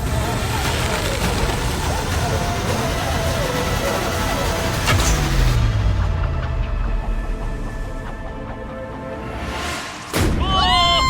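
A balloon popped by an arrow shot during a sky-high survival challenge: one sharp, brief burst near the end cuts through a busy noisy background, followed immediately by excited voices.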